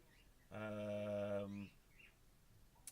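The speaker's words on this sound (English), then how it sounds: "those bird noises in the background? That would be our cockatiels" A single drawn-out squawk from a cockatiel, loud and close for about a second, followed by a few faint chirps against a quiet room.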